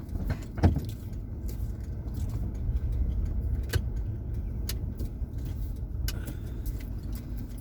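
Car interior in slow traffic on a morning drive in Destin, Florida: a steady low engine and road rumble, with a few faint clicks and light rattles over it.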